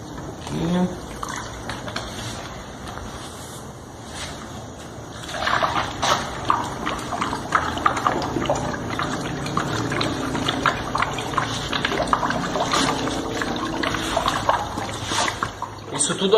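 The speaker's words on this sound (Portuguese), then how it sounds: "Vou colocar a mesma medida de água." Well water poured over sugar to make a cold syrup for feeding stingless bees, heard as a soft trickle that grows into a steady splashing pour, with a person talking over it.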